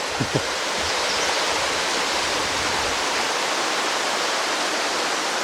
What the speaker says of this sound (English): there's quite a few spots where the water comes up through the limestone here